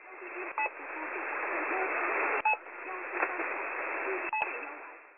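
Russian shortwave signal on 6230 kHz, a band of continuous radio static and hiss with brief tonal pips and clicks breaking through, heard alone.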